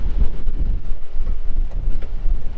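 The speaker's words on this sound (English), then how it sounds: "it's kind of windy today" Wind buffets an outdoor microphone with low, rumbling gusts, loud and continuous, beside a 2023 Mercedes-Benz CLA35 AMG.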